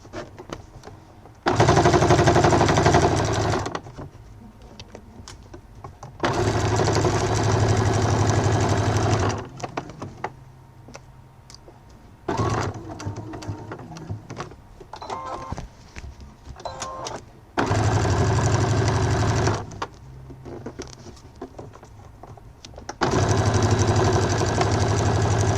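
A home sewing machine stitching a multi-compartment fabric wallet runs in loud bursts of a few seconds each, separated by short quiet pauses, its motor whirring steadily during each run.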